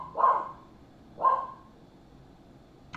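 Two separate barks from dogs somewhere in the house, each short and mid-distance, about a second apart, then quiet with a faint click at the end.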